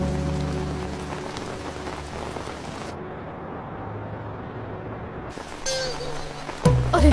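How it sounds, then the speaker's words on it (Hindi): Heavy rain pours steadily onto surfaces, a dense loud wash throughout, with a brief gap where higher hiss drops away, then a sharper splash or knock near the end. "मुझे पता है बारिश हो रही है"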